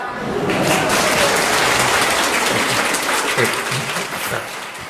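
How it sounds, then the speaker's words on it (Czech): An audience at a children's puppet show claps with sustained, dense applause that builds quickly, holds strong, and then fades slightly toward the end. "Prosím potlesk."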